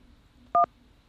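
A single short phone keypad tone beeps once as the 1 key is pressed to accept an incoming call, clear and isolated against a quiet background.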